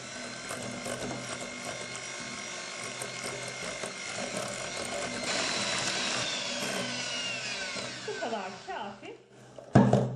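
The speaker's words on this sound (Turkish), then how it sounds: "Ve birkaç dakika mikserle çırpıyoruz." An electric hand mixer whips batter with powdered sugar for pumpkin cake, whirring steadily, its pitch shifting as it works, before cutting off; a clattering knock follows near the end.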